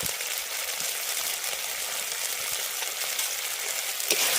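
Ground spice paste with turmeric and chili powder frying in oil with fried dry chilies, a continuous soft broadband sizzle throughout with a faint stir near the end.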